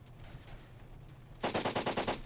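Gunshots in the blocky shooter game Blockpost: after a quiet, low hum, a rapid burst of about seven sharp automatic shots rings out close and loud, evenly spaced.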